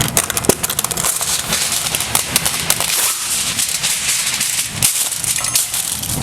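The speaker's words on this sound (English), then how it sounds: "I'm going to use a little bit of the H-E-B nonstick foil." H-E-B nonstick aluminum foil crinkles and crackles loudly and continuously as it is handled and pressed into a baking pan for biscotti.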